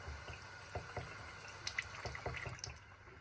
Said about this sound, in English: Just a little bit of running water.